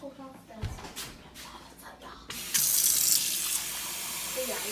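Tap water pours from a faucet into a pot being filled for boiling in a home kitchen, a steady hiss that starts partway through and runs on at a moderate level, with faint handling noise before it.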